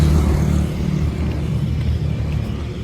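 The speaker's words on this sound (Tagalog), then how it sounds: "Maraming sasakyan." Continuous low rumble of heavy road traffic, many vehicles passing close by at a steady, fairly loud level without pause.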